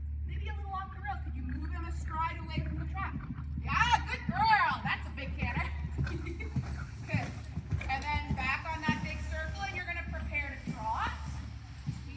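Hooves beat in a steady rhythmic clip-clop as a horse trots during a riding lesson, while an instructor talks continuously over the footfalls.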